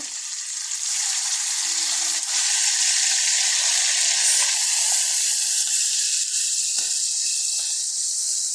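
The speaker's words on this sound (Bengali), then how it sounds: "এই যে আমাদের রসুনটা ভাজা হয়ে গেছে হালকা গোল্ডেন কালার চলে আসছে এখন আমরা থেতো করা চিকেনগুলো দিয়ে দিব" Mashed chicken for chicken theto sizzles loudly in a pan of oil with golden fried garlic, a dense, steady hiss of frying that runs close and unbroken throughout, with no one speaking.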